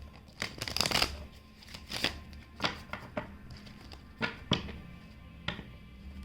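Tarot cards are shuffled close by in quiet, uneven bursts of riffling and soft slaps spread across several seconds, with no talking.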